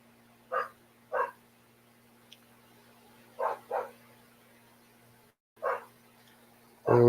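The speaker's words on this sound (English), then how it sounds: "along with the annoying barking dog." A dog barks indoors during a live stream: five short, sharp barks in loose pairs and singles, moderately distant over a quiet background, followed by a sudden louder noise at the end.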